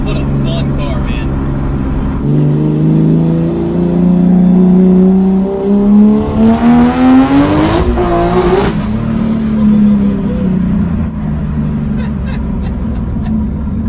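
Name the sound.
turbocharged BMW E46 M3 engine revving while driving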